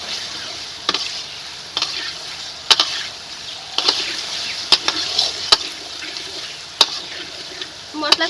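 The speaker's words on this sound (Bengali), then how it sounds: "মশলার সঙ্গে আলুটাকে আরেকটু কষিয়ে নিয়েছি" Potatoes stir-fried in a spice masala for aloo dum, a steady sizzle under repeated scraping strokes of a spatula against the pan, with sharper clacks at irregular intervals throughout.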